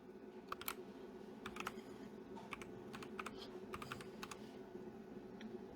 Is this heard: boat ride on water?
no